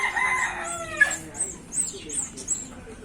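A rooster, a bred gamecock, crows once nearby, followed by a series of short repeated bird calls and clucks, with a voice speaking faintly underneath.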